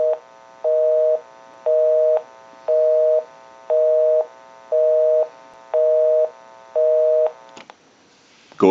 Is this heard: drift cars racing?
no